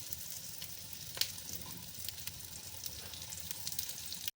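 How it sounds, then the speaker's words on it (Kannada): Vegetarian fish pieces shallow-fry in a little oil over a low flame, giving a faint, even sizzle with tiny scattered pops and no voices. "ಡೀಪ್ ಫ್ರೈ ಇರೋದಿಲ್ಲ, ಶಾಲೋ ಫ್ರೈ ಇರುತ್ತಲ್ಲ, ಅದಕ್ಕೆ ಲೋ ಫ್ಲೇಮಲ್ಲಿ ಇಟ್ಟರೆ ಚೆನ್ನಾಗಿ ಫ್ರೈ ಆಗುತ್ತೆ."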